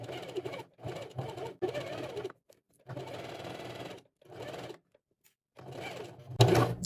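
A sewing machine stitches the sleeve seam of a women's V-neck dress shirt in several separate runs with brief pauses between them, close and clear, with a sharper burst at the end.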